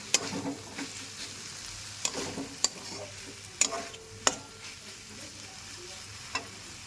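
Taro flowers frying with prawns in a pan, a soft steady sizzle broken by scattered clicks and scrapes of a spatula stirring, heard close and alone.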